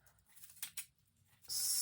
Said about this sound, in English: I'm going to take my scissors and just snip the loops of the tails